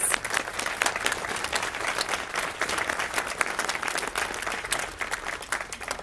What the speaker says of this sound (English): Please give them all a collective round of applause.